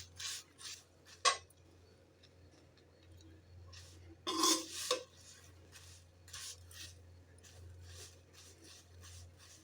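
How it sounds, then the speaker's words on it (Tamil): Curry leaves dry-roasting in a kadai are stirred with a utensil, giving soft scraping and rustling strokes with a few sharper metallic clinks, quiet and close, over a low steady hum. "கருவேப்பிலையை நல்லா நம்ம வறுத்துக்கலாம்."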